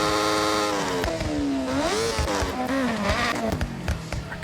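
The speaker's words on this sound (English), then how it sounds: "Let's put a super motor in here. That's the racing super motor." A racing motorbike engine swapped into a Honda Beat in Forza Horizon revs loudly and continuously, its pitch climbing and dipping through several sweeps with no talk over it.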